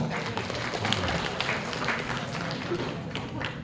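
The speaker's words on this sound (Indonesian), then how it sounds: "Terima kasih, tepuk tangan." A crowd at a university grand opening event claps steadily, dense and continuous, with voices and cheering mixed into the noise throughout.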